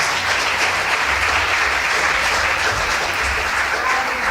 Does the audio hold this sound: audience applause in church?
yes